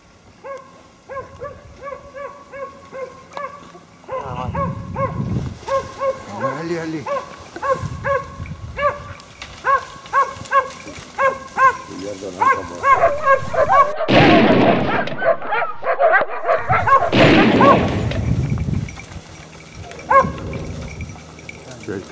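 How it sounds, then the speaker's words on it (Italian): A farm dog barks in repeated short bursts in a rural Umbrian setting, loud and near, mixed with people talking and some sharp thumps. "C'è il cane, c'è il cane."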